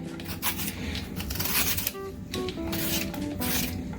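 Julienne peeler shaving a mango into thin strands, a close scratchy rasping repeated in quick strokes with brief tonal squeaks between passes.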